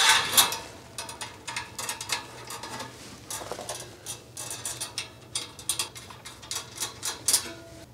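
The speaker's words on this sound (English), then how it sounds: "You can use the Phillips head screwdriver to do the quick work, and then you flip it to the Allen head to just tighten them up a little bit." A combination screwdriver with Phillips and Allen ends tightens the fasteners on a tall ten-drawer fabric storage dresser, giving a rapid series of close ratcheting clicks and small metallic ticks in uneven bursts, with no talking.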